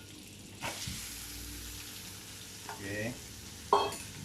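Chopped Holland onions sizzle and fry in melted butter in a pan as they soften, a low steady hiss with a few stirring clatters and a brief spoken word.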